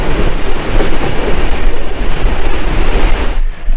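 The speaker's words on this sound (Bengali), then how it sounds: "এই মুহূর্তে ট্রেনের স্পিডটা দেখো, এক প্রকার রকেট গতিতে চলছে, মানে 100+ এরকমই চলছে।" A Kaziranga Express passenger train running at high speed, over 100 km/h, gives a loud, steady broadband roar of rushing wind and rolling wheels. It carries on without a break until it drops away suddenly near the end.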